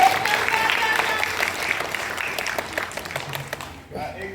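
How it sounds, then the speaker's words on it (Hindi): Applause from a school theatre audience fills the room continuously and fairly loud, easing off slightly toward the end, with voices mixed in. "अरे ताली बजा दो"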